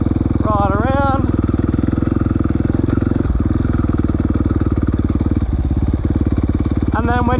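Dirt bike engine running steadily close by after an upshift, a loud continuous buzzing drone with a brief rising whine near the start and end.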